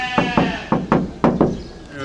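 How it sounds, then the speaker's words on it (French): Sheep bleat nearby at a workshop site in Dakar, a run of about five short, sharp cries in quick succession, loud and close, with a faint voice in the background. "J'entends des moutons bêler."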